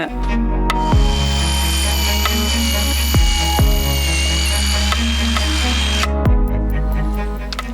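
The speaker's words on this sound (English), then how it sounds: "So those are pilot holes for these really thick screws." A power drill bores pilot holes into wood for thick screws during an off-grid cabin build: a loud, close, steady motor whine that stops and restarts a few times, with no talking.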